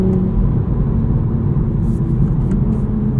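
A 2023 Toyota GR Supra 3.0 with a manual gearbox drones steadily from inside the cabin, a loud low engine rumble that holds fairly even with a few brief clicks above it.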